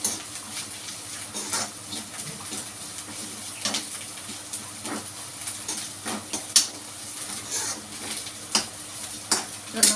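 Ingredients for a coconut-free puli inji sizzle in a hot pan while a spoon repeatedly stirs and scrapes the pan, giving a steady close frying hiss with scattered clinks.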